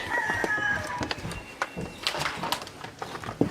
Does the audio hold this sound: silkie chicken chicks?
yes